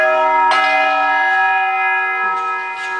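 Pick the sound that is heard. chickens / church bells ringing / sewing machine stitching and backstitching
church bells ringing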